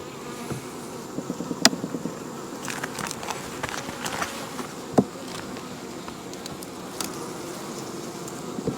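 Honey bees buzz around open hives during an inspection, a steady close insect drone with a few brief knocks and clicks from handling the frames.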